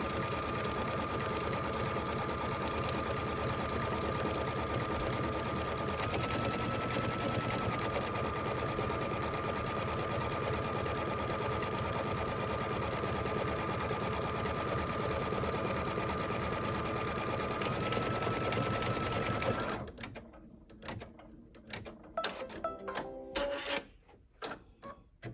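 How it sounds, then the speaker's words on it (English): A sewing machine stitches a pie block tack down line on a quilted pillow in one long, steady rapid chatter, close, then stops for scattered handling clicks and rustles. "So I'm stitching the pie tack down line."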